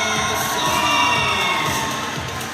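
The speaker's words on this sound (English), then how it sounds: "Massive cheers" A crowd at the women's 10m air pistol final of the ISSF Junior World Cup in New Delhi, India, cheers loudly for a medal, with a dense, sustained roar of shouts and whoops throughout.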